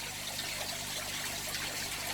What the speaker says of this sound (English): That's my koi you can hear splashing in the background